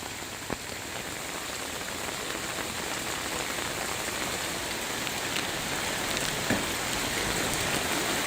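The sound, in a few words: rain falling on flooded street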